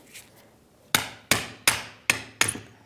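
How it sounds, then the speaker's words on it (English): A small hammer taps front brake pads out of the caliper bracket on a 2015-2024 Jeep Renegade: five sharp metallic knocks in a steady, evenly spaced rhythm, close and clear in a quiet shop. "Little hammer gets it out a lot easier"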